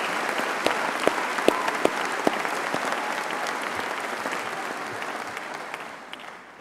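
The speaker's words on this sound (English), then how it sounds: "she deserves a much bigger round of applause than that" Audience giving a round of applause after a speech, many hands clapping with some sharper nearby claps, steady and then fading out over the last second or two.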